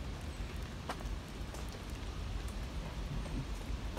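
Heavy rain falls over a cemetery walkway lined with palm trees, a steady dense patter with occasional nearby drips, continuous and with no talking.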